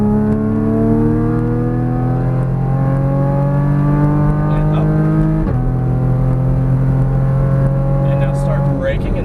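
Porsche Cayman GTS accelerating on a track around cones, engine rising steadily in pitch under throttle, a quick gear change midway and then climbing again, loud and close from inside the car.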